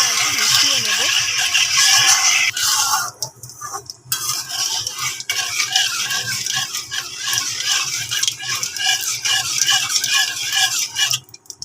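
Sugar stirred into hot oil in a cooking pan, close metallic scraping and clinking of a spoon over a soft sizzle, with someone talking over it.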